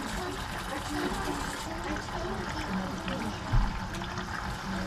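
Water rushes and splashes steadily through washer/dryer combo fittings aboard a 45-foot sailboat, a continuous noisy flow close by with a brief thump near the end; a voice murmurs faintly beneath.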